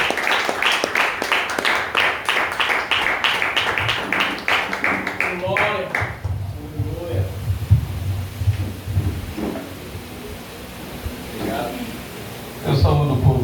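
A church congregation claps in rapid unison to welcome pastor Rogério Vilar, a dense burst of applause lasting several seconds before it gives way to a quieter room where voices and low murmurs take over.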